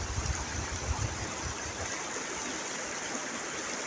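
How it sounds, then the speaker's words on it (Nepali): Water of the Marin river flows past in Nepal, a faint, continuous rushing wash with a little heavier low churn near the start and no voices. "सुन्दर पवित्र शुद्ध जल भएको यो नदीमा"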